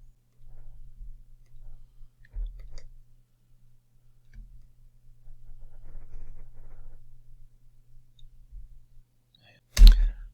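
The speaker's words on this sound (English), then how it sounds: "Hit my microphone there." A hand bumps a desk microphone once near the end, a single sharp loud thump after quiet scattered clicks and light taps.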